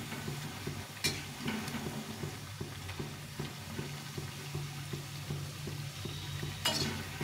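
Mung lentil fritters fry with a soft, continuous bubbling sizzle and regular low knocks of stirring, fairly faint and close, with a couple of sharper clinks and no talking.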